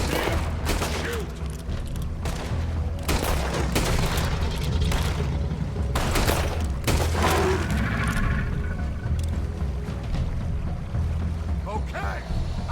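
Gunfire in the Red Dead Redemption video game while hunting a legendary animal: a loud, rapid volley of shots and booming blasts in irregular bursts over a constant low rumble.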